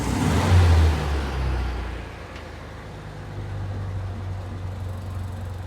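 A 1979 VW Super Beetle engine starts and revs loudly in short bursts, then settles into a steady, lower idle rumble close by.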